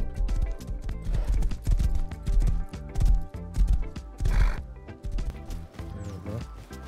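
In the survival game Rust, horse hooves clop in a steady run close by, and a whinny rises partway through with no talking.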